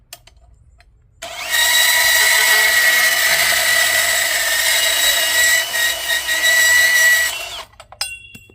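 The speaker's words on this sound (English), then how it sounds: "I'm going to cut off the top here with my bandsaw" A bandsaw slices through the top of a vinyl fence rail with a steel core, a steady loud whine running about six seconds after a quiet lead-in, then dying away with a few small clicks.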